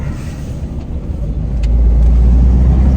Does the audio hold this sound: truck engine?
yes